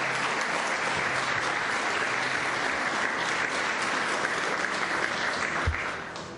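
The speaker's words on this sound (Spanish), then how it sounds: "Denles aplauso al Señor." Church congregation applauding together, dense sustained clapping that carries on evenly for several seconds before tapering off at the end.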